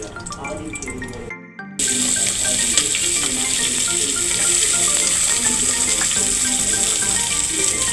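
Fenugreek and black pepper sizzle in hot oil in a pressure cooker. A steady, loud frying hiss starts abruptly after a short quieter moment and then carries on evenly with small crackles.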